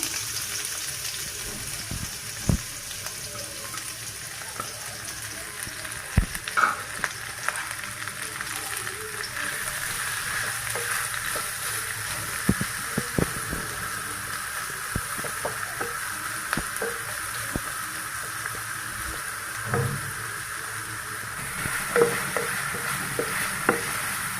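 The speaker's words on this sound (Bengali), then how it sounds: "এখন আমি পেঁয়াজ কাঁচামরিচ কেটে দিয়ে দিলাম" Chopped onion and green chili fry in a pan for a fish roe bhuna, giving a steady, bright sizzling hiss with scattered clicks and taps of utensils throughout.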